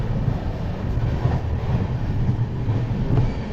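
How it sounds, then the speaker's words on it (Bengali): A Farakka Express sleeper carriage runs at speed, giving a steady, loud low rumble of wheels on rails with faint rhythmic clatter throughout and no voices. "ট্রেন ছাড়ার সঙ্গে সঙ্গে আমাদের ট্রেন ভাই ভালো স্পিড নিয়ে নিয়েছে"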